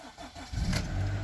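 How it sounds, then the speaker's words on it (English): A Honda Accord CL7 cold-starts after a spark plug change: a quiet lead-in, then the starter catches halfway through and the engine fires into a loud, steady low rumble close by. "All we need to do now is start the engine to make sure that everything works."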